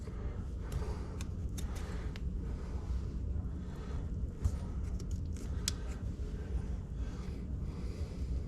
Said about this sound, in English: Cut all the string off.